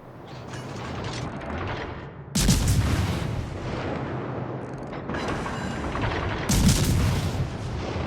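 Naval gunfire aimed at the Bismarck in World of Warships: Legends, two sharp heavy salvos booming out about four seconds apart, each followed by a rumbling decay over steady mechanical engine and machinery noise.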